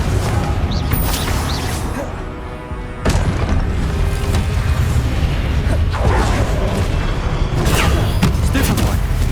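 A Confringo blasting spell in Hogwarts Legacy goes off in a loud, booming explosion with crackling debris, followed by a brief lull and then more rumbling blasts amid game combat noise.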